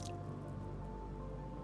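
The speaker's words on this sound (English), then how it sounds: "So now I'm just gonna put it in the water." Pineapple skin drops into a pot of water with a soft wet splash and squish, followed by faint dripping over a steady low background hum.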